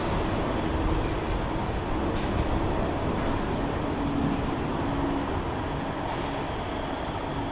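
A Manchester Metrolink tram running through the lower level of a railway station, a steady loud rumble of wheels and motors with faint squeals and clatter over the top, continuous and close.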